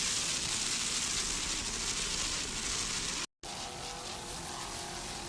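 A 40-foot Fountain Instigator offshore racing powerboat with twin 750-horsepower Bandit racing engines and MerCruiser drives roars steadily and loudly at full throttle off Miami, with a brief cut partway through before the engine noise resumes.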